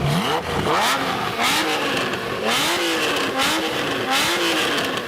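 A Ferrari Testarossa engine revs loudly and close, its pitch climbing and falling in a string of repeated throttle blips over a harsh, constant roar.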